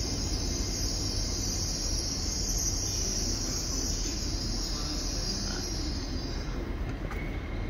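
A Class 802 train pulling out towards Paddington, a continuous low rumble with a steady high whine or squeal above it, heard from the platform side amid insect chirping and no talking.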